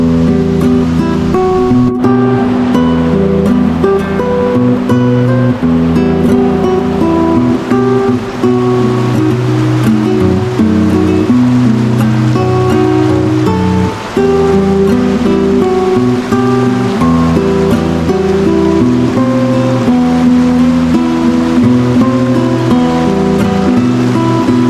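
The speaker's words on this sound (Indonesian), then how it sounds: "sebuah jembatan kecil yang di bawahnya mengalir sungai besar" A large river flows beneath a small bridge near a village, its steady loud rushing water continuous throughout with a constant hum and no speech.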